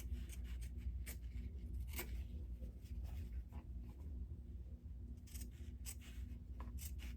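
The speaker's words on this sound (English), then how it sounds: "now I'm just going to cut it up to that line" Scissors cut denim from old jeans into strips, giving soft, close crunching snips at irregular intervals over a steady low background hum, with no speech.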